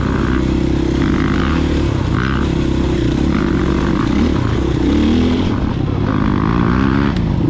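Motorcycle engine revving hard as the rider lifts the front wheel on a ride along a loop road, a loud continuous roar with rising and falling pitch alongside heavy wind noise, close to the microphone.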